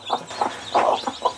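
Chickens on a farm poultry yard cluck in a quick series of about six short, close, moderately loud calls, spaced irregularly with no talking.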